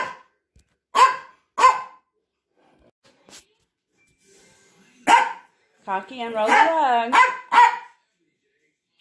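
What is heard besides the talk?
dog barking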